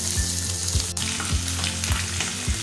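Boiled beef pieces fry with masala for Old Delhi style masala boti, giving a steady loud sizzle with periodic low thumps and scrapes of stirring, no voices.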